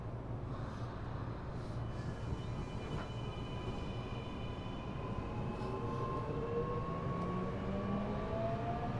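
A Tokyo Metro Chiyoda Line Eidan 6000 series train with a 7000 series VF motor accelerates from a station, its motor whine rising in several stepped, siren-like tones above a steady, loud rumble of wheels on rail.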